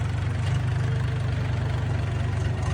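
A low, steady 24-horsepower four-wheel-drive tractor engine idles with a regular throbbing pulse, close by and constant throughout, with no talking.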